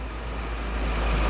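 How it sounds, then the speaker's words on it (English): A very loud truck passes by outdoors, a low rumbling roar that swells steadily over its short span with no voices. "very loud truck passing by."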